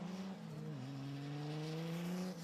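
Mazda MX-5 and Nissan R32 drift cars battling at a UK drift championship round at Teesside, engines droning loud and steady with rising revs throughout, no talk.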